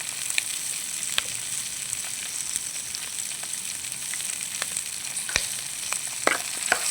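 Tomato, garlic, tamarind and curry leaves fry in a pan for a chutney, a steady close sizzle broken by sharp clicks and scrapes as a utensil stirs them.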